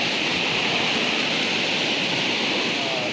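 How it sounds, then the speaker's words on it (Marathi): Village river water flowing, a dense, loud, steady rush filling the whole clip with no pauses and no voices. "नदीच्या आताकडनंच सगळं ते जात आहे नदी दाखवत आहे ह्या साईडने"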